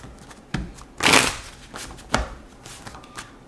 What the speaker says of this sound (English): Let's get two more shuffles.